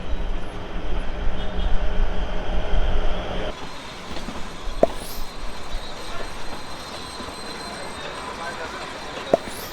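Kalka-Shimla toy train passing on its return run from Shimla, a steady rumble of wheels with faint squeals, heard near a halted train while people chatter in Bengali over it.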